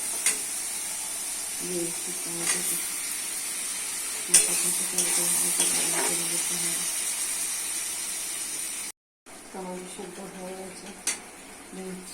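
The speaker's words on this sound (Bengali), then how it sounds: "মশলা ভালো করে কষে নিতে হবে" Masala spices of cumin and coriander powder with salt frying in a pan for a potato, tomato and eggplant dish, a steady close sizzle under repeated spoon stirring and metal clinks, with one brief dropout.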